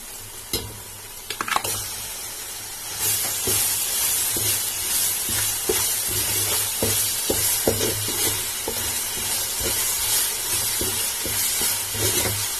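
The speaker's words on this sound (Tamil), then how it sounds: "நல்லா வதக்கி விட்டுக்கோங்க, இல்லைன்னா வாசனை அடிக்கும்" Ginger garlic paste sautés in a pan for Karaikudi Chettinad mutton biryani, a bright continuous sizzle rising after a few opening clatters, with frequent scraping stirs throughout.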